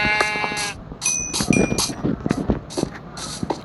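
Sheep bleat in the Minecraft video game, a quick string of short, close, wavering cries with brief gaps between them, set against faint game clicks.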